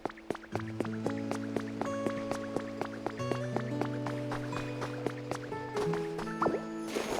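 Steady water drips plinking in a water town in the Pokopia video game, layered over a soft melodic musical background that shifts pitch every few seconds.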